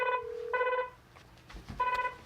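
A phone call placed through a VPN extension on a Zentyal 6.0 server rings back with two clear harmonic ringback tones separated by a pause, loud and alone, with a faint low rumble between them.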